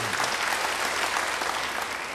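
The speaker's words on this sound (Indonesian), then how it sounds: "Beri tepuk tangan buat Tuhan." A church congregation applauds together in a steady, even wash of clapping, sustained and fairly distant, with no single claps standing out.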